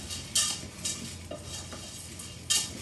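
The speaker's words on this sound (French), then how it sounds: "Ça commence à crépiter doucement dans la casserole." Gentle sizzling of coquillette pasta in butter with shallots and curry powder in a saucepan, with a utensil stirring and scraping a few times close by.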